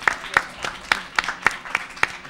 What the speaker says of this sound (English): Daniel, can we have a round of applause for Daniel?